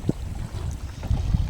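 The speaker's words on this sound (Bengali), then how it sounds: "নদীতে কিন্তু ঢেউ হচ্ছে খুব" Wind buffets a small boat on a choppy Sundarbans river under a strong south wind, a low rumbling roar with brief gusty thumps and no voices.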